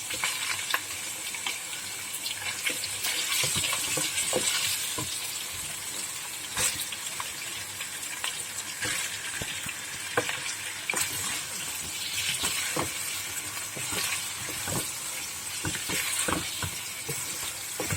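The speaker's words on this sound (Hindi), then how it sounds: "इसको अच्छी तरह से फ्राई करेंगे।" Chicken fries in a pot with whole spices such as cardamom, bay leaf, cloves and black pepper, giving a continuous moderate sizzle. Frequent sharp clinks and scrapes of stirring break through it.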